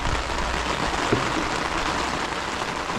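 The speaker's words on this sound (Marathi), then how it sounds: "पाऊस आला पण केवढा मोठा पाऊस आला" Heavy monsoon rain in the Konkan countryside pours down in a steady, dense hiss of drops hitting surfaces, loud and continuous throughout.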